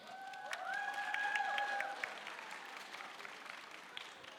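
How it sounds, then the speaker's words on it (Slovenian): Audience applause at a Slovenian science fiction literature talk: clapping under a brief whistle-like tone early on, then steady clapping that thins and softens toward the end, fairly faint. "tako da en aplavz, prosim."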